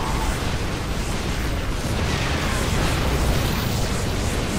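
A nuke detonating in StarCraft II during a Nexus Wars match, a loud, dense roaring blast that fills the whole moment with continuous rumbling noise and no speech.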